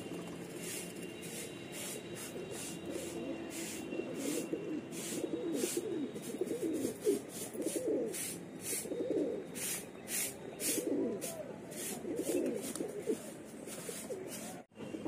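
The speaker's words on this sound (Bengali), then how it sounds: "এ পায়রাটা তো ভীষণই বদমাস" Pigeons at a mini zoo cooing in repeated low, throaty bursts, near and fairly steady throughout, with sharp rhythmic chirps from other birds layered above.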